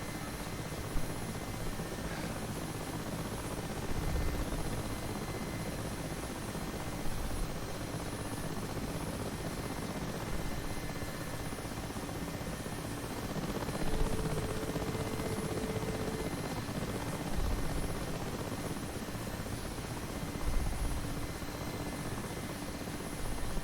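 An Mi-8 Hip helicopter flies in the DCS World simulator with a continuous rotor and turbine drone, steady and fairly loud, with occasional small bumps and clicks over it.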